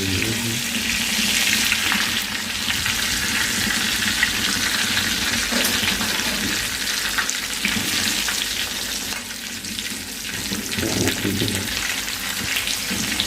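Chicken pieces, including leg pieces, fry in oil for chicken mandi with a loud, close, continuous sizzle, mixed with occasional scraping and stirring sounds.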